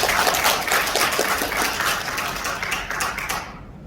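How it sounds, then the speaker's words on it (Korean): Applause from an assembled audience of community leaders at a formal Korean gathering, dense crackling clapping that stays loud throughout and cuts off abruptly at the end. "여러분 박수 한번 부탁드리겠습니다"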